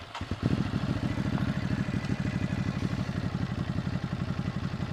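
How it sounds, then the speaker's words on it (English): A Ducati motorcycle engine in gear, not in neutral, runs with a steady, rapid low thrum and a mechanical clatter, held close and fairly constant. "make you listen to the sound of the bike without being in neutral"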